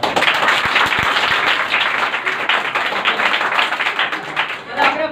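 A room full of people clap their hands together in a dense, loud burst of applause lasting several seconds, with a few sharp individual claps standing out at the start.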